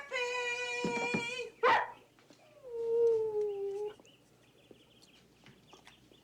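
Dogs in a show sound off: a drawn-out tonal whine, a sharp yelp or bark, then a second lower whimper, close and fairly loud over a quiet room.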